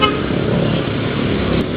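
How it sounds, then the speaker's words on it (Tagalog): A car horn honks in steady, continuous blasts amid road traffic, loud and close, filling the whole moment without any talking. "busina"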